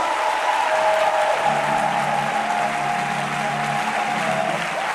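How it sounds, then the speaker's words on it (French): A church congregation claps and cheers in praise of the Lord, a dense, steady wash of applause with voices rising throughout, loud and close, with a sustained tonal hum running underneath. "tu peux acclamer très fort le Seigneur"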